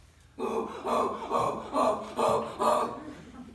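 A person imitates howler monkeys with a series of six rhythmic, guttural whooping calls, fairly close and otherwise quiet.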